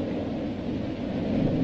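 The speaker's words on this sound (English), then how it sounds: "There's that thunder sound." Thunder rumbles as a low, steady, heavy roar with a hissing, rain-like wash on top, continuous and fairly loud for the whole short stretch in a 1935 serial soundtrack.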